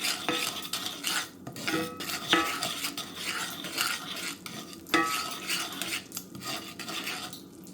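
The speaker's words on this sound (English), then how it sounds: "I'm gonna let this simmer for about a minute." Brown sugar sauce simmering in a pan, with a utensil stirring and scraping against the pan, a soft steady sizzle underneath and occasional metallic clinks.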